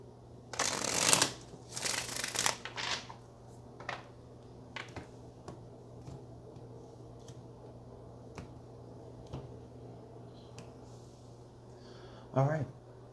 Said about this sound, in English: one more shuffle and then we'll cut the deck